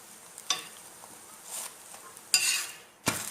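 A parotta is turned on a hot tawa with oil, giving a few sharp spatula clatters and scrapes with a light sizzle between them, close and fairly quiet.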